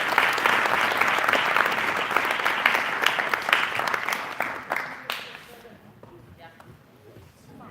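Applause from a course audience at the end of the final day, dense and steady clapping that fills most of the clip, then thins into scattered claps and fades out.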